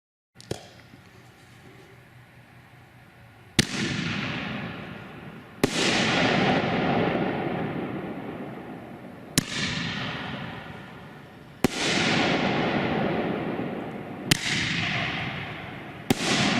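A Shogun five-shot fireworks cake fires its shots one after another, each a sharp launch crack followed by a loud booming burst that crackles and fades over a couple of seconds, spaced irregularly outdoors with no talking.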